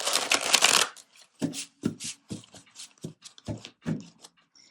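Tarot cards are shuffled close by: a dense riffling burst, then a run of about a dozen crisp separate card slaps and flicks, irregularly spaced, in a quiet room.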